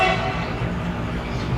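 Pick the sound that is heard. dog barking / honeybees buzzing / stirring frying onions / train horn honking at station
train horn honking at station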